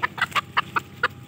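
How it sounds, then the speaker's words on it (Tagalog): A chicken clucks in a quick series of short, close bursts, about eight clucks in just over a second. "may manok dito"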